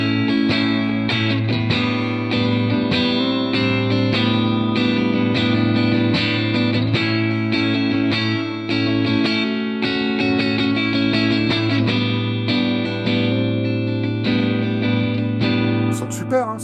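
Distorted electric guitar played through a spring reverb setting on an IK Multimedia ToneX amp-modeling pedal, loud and continuous chords and notes with a reverberant tail, no talking.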